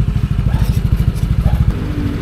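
Several motorcycles, among them a Honda Click 125, Honda PCX 150 and Yamaha NMAX, ride together at night toward Mariveles, Bataan, their engines giving a steady, close, pulsing drone with faint clattering and no talk.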